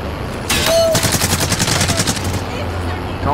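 Rapid automatic gunfire bursts out loudly in Call of Duty Warzone, with a dense rattling stream of shots running for about two seconds over game ambience.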